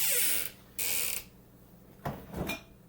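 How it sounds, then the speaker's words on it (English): A squeaky kitchen cupboard door sounds in short bursts: two sharp high creaks at the start, then two lower scraping knocks near the end, close and fairly loud in a quiet room. "my cupboards are a little squeaky"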